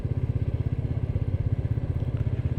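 A Royal Enfield Meteor 350 single-cylinder engine chugs in second gear on a sandy off-road track, a close, steady low thumping pulse with rapid, even beats running throughout.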